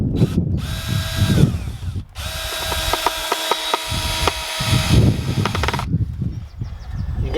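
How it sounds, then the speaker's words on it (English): A cordless drill drives screws into the hinges of a wooden allotment garden gate in several bursts, its motor whining up in pitch and then cutting off, loud and close with brief pauses. "screw in the top hinge and one screw in the bottom hinge"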